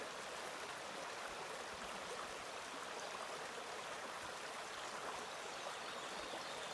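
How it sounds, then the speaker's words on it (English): A creek on the Borden Creek Trail in Alabama's Sipsey Wilderness, swollen after recent rains, gives off a steady broadband rush of flowing water. The sound is continuous and even throughout, with no talking. "this is that creek we got to cross again"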